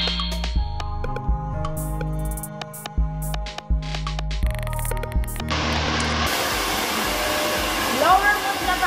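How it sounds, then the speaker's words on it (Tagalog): Music with sustained tones plays first, then a hair dryer at a salon in the UAE switches on. Its loud, close, steady rushing blow continues to the end while hair is being dried. "Idadry na siya."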